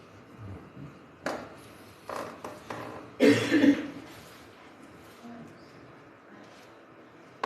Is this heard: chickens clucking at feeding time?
no